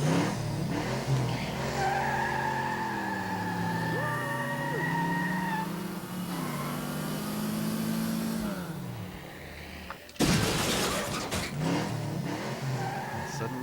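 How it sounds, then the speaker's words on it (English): Racing car engines roar and whine with rising and falling pitch, tires squealing, ending in a sudden loud crash-like burst followed by more engine noise. "I got some racing car sound effects and added them to it."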